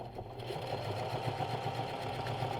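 A Singer 4452 heavy duty sewing machine stitching steadily, a rapid even mechanical whir with a rhythmic needle patter, close and moderately loud, with no talk.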